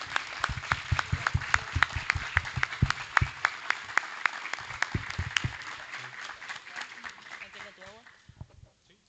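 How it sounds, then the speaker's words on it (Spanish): An audience at a talk on first aid and CPR gives a round of applause, with dense, lively clapping close by that thins out and fades to scattered claps by the end. "demos un aplauso y una gracias"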